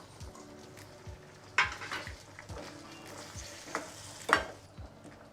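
Chopped tomatoes dropped into a hot pan for a Gujarati green pigeon pea and eggplant curry, giving a low steady sizzle broken by a few sharp stirring clinks and scrapes of a utensil against the pan.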